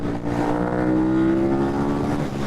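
A 2008 KTM 990 Super Duke motorcycle's engine pulls hard under acceleration, giving a loud, close, steady drone whose pitch rises smoothly and then eases off. No one speaks.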